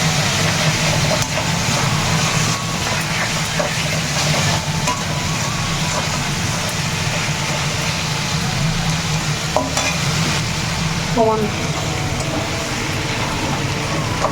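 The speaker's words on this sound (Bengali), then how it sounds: "এখানে এখনো আমাদের মাংসটা কষানো চলছে" Chicken and onions stir-fried in a pan, a steady close sizzle with scraping and stirring clatter throughout, no talking over it.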